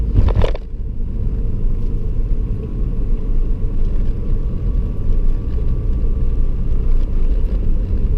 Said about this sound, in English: I'm in 4th gear, I just come off the gas, and the engine braking naturally just slowed the car down